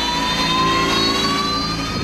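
A military jet engine roars steadily at a busy military air base, loud and close, with a dense broadband rush and a high whining tone held throughout.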